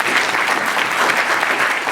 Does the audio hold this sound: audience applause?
yes